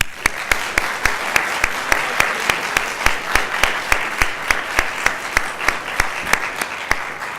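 Sustained audience applause after speakers at a debate, a dense steady wash of clapping carried by a loud, regular pulse of sharp rhythmic claps throughout.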